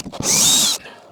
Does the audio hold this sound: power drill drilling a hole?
yes